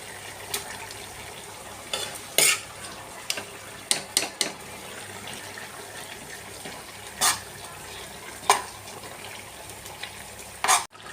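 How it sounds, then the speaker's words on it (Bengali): Malabar spinach being stirred into a frying potato and pumpkin curry, with a low sizzle underneath and a series of sharp scraping clatters from the spoon at irregular intervals. "পুঁই শাকটাকে এবার আলু কুমড়োর তরকারির মধ্যে মিশিয়ে দেব।"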